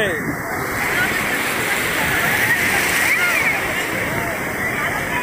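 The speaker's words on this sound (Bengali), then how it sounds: "বড় ঢেউ, জল খাবে জল খাবে।" Large sea waves crash and slosh steadily at Digha beach, a loud, close, continuous wash of surf with people talking over it.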